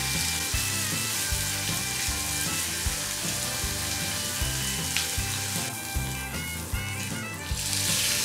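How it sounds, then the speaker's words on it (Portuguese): Beef steak sizzles loudly in hot oil while being brushed with a rosemary sprig, a dense, crackling fry with rhythmic stirring and brushing strokes, close up and continuous with no talking. "Toda vez que esse alecrim mergulhar aqui no óleo, ele vai começar a fritar."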